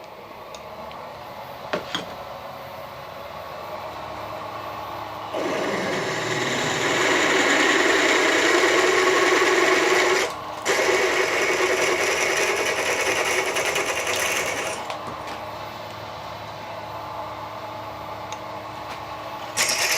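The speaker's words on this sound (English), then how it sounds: "I'm just going to slow this drill machine down a little bit" A drill press motor spins up and runs with a steady whirring hum for several seconds, briefly dips as it is slowed down, then winds down; no talking.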